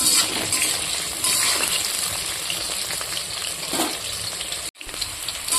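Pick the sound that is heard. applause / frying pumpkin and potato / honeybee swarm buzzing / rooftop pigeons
frying pumpkin and potato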